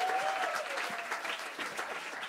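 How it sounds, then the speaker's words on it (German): Concert audience at a jazz club showcase claps steadily and warmly, a fairly distant, sustained applause with no voices on top. "auch nochmal Applaus"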